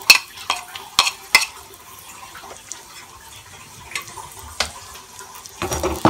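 Garlic goes into a kadhai holding one or two teaspoons of oil left from frying chicken for Chicken Manchurian. A soft, low sizzle runs under sharp metallic clinks and stirring knocks near the mic. There is no talk.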